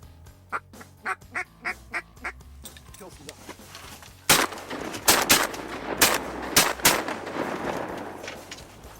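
A series of sharp, loud gunshots rings out outdoors during a duck hunt on the Mississippi River, several in quick succession, after a run of rhythmic duck quacks at the start.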